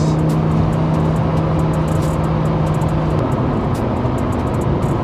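A 2009 Lamborghini Gallardo LP560-4 with a twin-turbo engine cruises in fourth gear at about 3,500 rpm, giving a steady, loud engine drone heard from inside the cabin with no talking.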